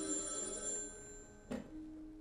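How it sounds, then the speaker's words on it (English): A telephone bell ringing, a faint trilling tone with steady overtones that fades out, followed by a brief soft knock or click, in a quiet indoor setting. "So many different ringing sounds."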